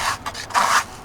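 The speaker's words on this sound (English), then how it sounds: "I'll scrape out the magnetite" Magnetite being scraped off a magnet during gold panning of Snake River paydirt, a few quick rough scraping strokes close up, the longest one near the end.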